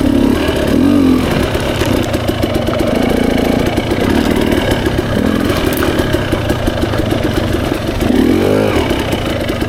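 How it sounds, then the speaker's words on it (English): A 2024 Beta 300 RR Race Edition two-stroke dirt bike lugs in second gear on a single track trail, its loud, close, rattling engine note surging and easing in uneven pulses throughout. "Lugging in second gear on the Beta right there feels a little better than on the KTM."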